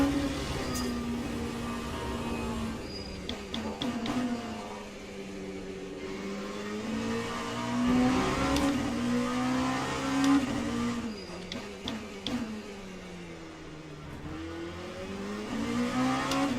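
A Le Mans Ultimate hypercar's engine howls steadily at racing speed, its pitch rising and falling through gear changes and corners, loud and close with no talking.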